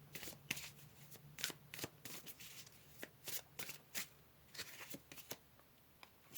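Tarot cards being shuffled by hand, a series of crisp riffling bursts and soft slaps in an irregular rhythm, close and fairly quiet, with no talk.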